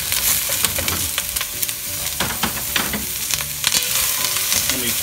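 Peppers and onions fry loudly in a pan, with a constant close sizzle broken by repeated scraping and stirring clatters from a utensil.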